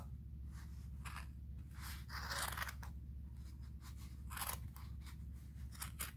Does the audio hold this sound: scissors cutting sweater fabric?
yes